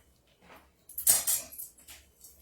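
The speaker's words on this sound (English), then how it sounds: "I'm going to stir this up. I need my spoon." A spoon scrapes and clinks against a dish while stirring a frozen blueberry mixture, a few close, bright clatters and scrapes bunched in the middle, quiet before and after.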